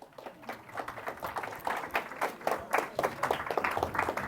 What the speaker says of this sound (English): Let's have a great round of applause for Dhiraj sir.